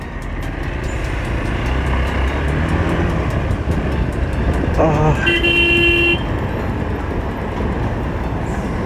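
Dense, steady road traffic noise near Kolhapur, heard from a motorcycle, with a loud horn blast cutting through midway, sounding close by.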